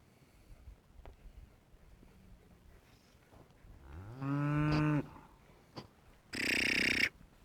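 A cow in a village herd gives a single drawn-out moo, fairly close, followed by a short burst of noise, against a quiet rural background.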